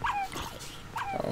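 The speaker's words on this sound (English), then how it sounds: "I'm glad I got dogs to help protect me." Dogs in the video game Minecraft give two short yelping barks about a second apart, fairly close and clear with nothing else over them.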